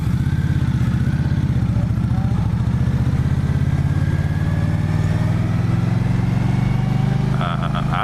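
A motorcycle rides through city traffic in Honolulu, its steady engine drone continuous and close throughout, with passing cars blending in under it.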